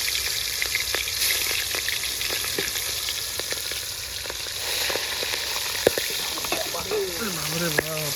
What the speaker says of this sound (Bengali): এখন মাগুর মাছ ভাজবো